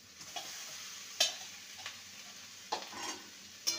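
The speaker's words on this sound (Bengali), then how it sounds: "ভালো করে মশলার সাথে কষিয়ে নেব। ভেজে রাখা আলু পটল দিয়ে দেবো।" Fried potato and pointed gourd being sautéed with spices in a pan: a steady sizzle with a few sharp stirring scrapes and knocks, close and alone, no voices.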